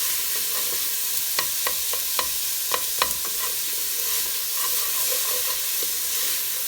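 Onions softening in a pan over low to medium heat for an aubergine and potato dish, a steady close sizzle and hiss with a handful of distinct utensil scrapes and taps during stirring.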